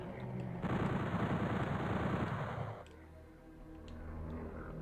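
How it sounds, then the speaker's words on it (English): Rapid machine-gun fire from the Sega Saturn port of Doom, a loud continuous rattling burst lasting about two seconds, then dropping to quieter background game sounds. "I'll go with the machine gun."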